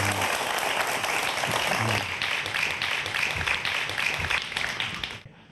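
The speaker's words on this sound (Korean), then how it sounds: "여러분 박수로 강연 청해드리죠?" An audience welcomes a lecturer to a talk on 3D printers with steady applause, a dense wash of clapping that holds strongly, then thins and fades out near the end.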